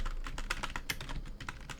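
Rapid typing on a computer keyboard while entering C++ program input, a close, even patter of key clicks with no pauses.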